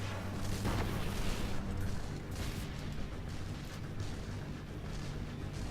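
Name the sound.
rocket launcher explosion in video game Destiny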